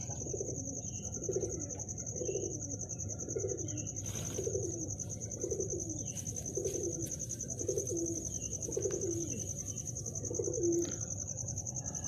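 A pigeon coos in a steady repeated rhythm at night, about ten soft rolling calls close by, over a constant high insect-like whine and low background hum.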